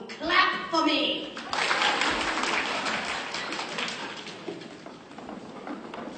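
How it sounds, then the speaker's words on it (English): An audience at a stage performance of a Snow White musical breaks into applause. It begins after a few brief voiced sounds, then settles into steady, moderately faint clapping for several seconds. "Well, go on. Clap for me."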